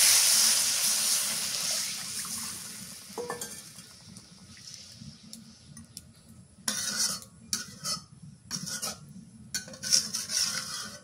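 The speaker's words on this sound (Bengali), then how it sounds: "এখন ঝোলের পানি দিয়ে দিই।" Water splashes into a thin fish curry of shing fish for gravy, a rushing pour at first, then metal spoon stirring and clinks against the pot in short bursts.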